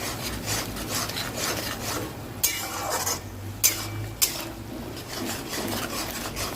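Lote fish with chilli and turmeric is stirred in a pan, giving rhythmic scraping and rubbing strokes over a low sizzle, with a few sharper knocks of the utensil against the pan.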